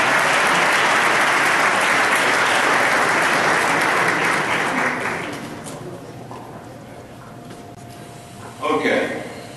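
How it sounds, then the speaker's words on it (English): Loud applause from a football banquet crowd fills the room for about five seconds, then fades out, leaving a quieter stretch with a short burst of sound near the end. "actually give them a round of applause this time"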